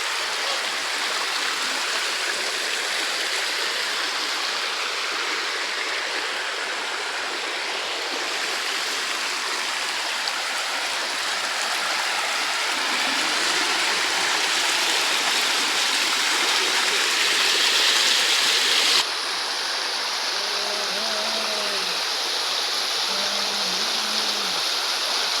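A waterfall pours in a constant, dense rush of flowing water, loud and close, unbroken for the whole stretch, with no talking heard over it.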